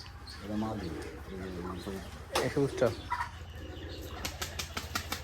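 Pigeons coo and shuffle close by, with soft flaps of wings and brief fluttering bursts, while someone talks over them.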